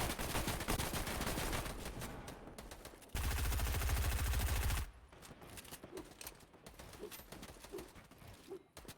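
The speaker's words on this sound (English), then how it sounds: "constantly getting peppered and barraged here by some sort of assault rifle bullets" Assault rifle fire in Fortnite: loud, dense bursts of rapid shots that hammer on for several seconds, then fall to lighter, sparser gunfire.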